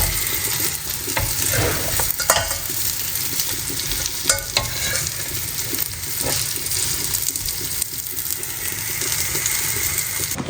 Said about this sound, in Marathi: एक साईड फ्राय करून झालेली आहे, आपल्याला आपण पलटून घ्यायची आहे ना.